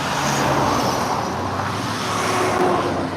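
Fast-moving traffic rushes past along a road beside a pond, a steady dense roar of cars close by with no pauses and no voices.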